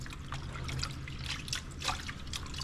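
Water trickling and splashing in a kitchen sink while mung beans are rinsed for cooking, a soft, faint, uneven dribble close by.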